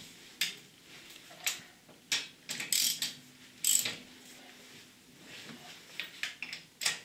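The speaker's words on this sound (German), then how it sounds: "Das Rad wird ein bisschen fest und drückt die Schrauben mal über Kreuz so weit zu," A ratchet clicks in short bursts as wheel bolts are snugged crosswise on a VW Golf 4 Cabrio, the sharp ticking pawl strokes coming in uneven groups with quiet pauses between, close and clear.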